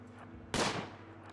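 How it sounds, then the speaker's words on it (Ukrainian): A single sharp gunshot in the video game RimWorld bursts out of a low, steady background hum and rings briefly before fading. "Зроби хоча б один постріл, хоча б одне влучання."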